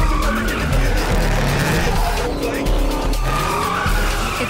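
Engines howl and tires squeal continuously as cars drift in the video game Juiced 2 Hot Import Nights, a dense, loud, close mix of skidding and revving that stays steady throughout.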